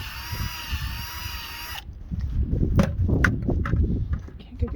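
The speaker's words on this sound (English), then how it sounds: "just pull the drill out a little bit so you get all the little bits out" An electric drill bores a tap hole into the side of a maple tree for syrup collection, a steady high whine cutting off after about two seconds, followed by close scraping and rustling handling noises.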